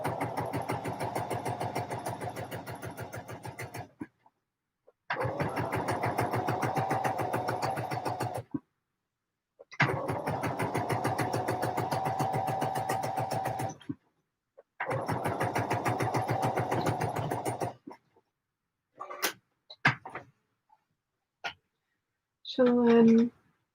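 A sewing machine stitches a Vogue 9345 dress in four long, steady runs of fast mechanical whirring, each broken by short silences, followed by a few scattered clicks and handling sounds near the end.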